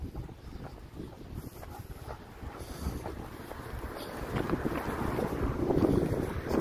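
Wind blowing outdoors on an overcast evening walk, a continuous low rumbling buffet of gusts against the microphone that grows slightly stronger toward the end, with no talking.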